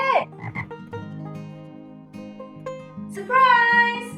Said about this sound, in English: I found a frog on my bed!